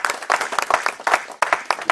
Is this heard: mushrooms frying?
no